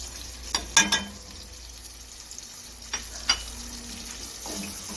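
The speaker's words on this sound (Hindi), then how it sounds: "अब मैं इस मसाले को अच्छे तरीके से भून लूँगी" Salt, red chilli powder, dried coriander and turmeric roast in a pan for dal, giving a soft, steady sizzle broken by a few sharp clinks and scrapes of a spoon against the pan.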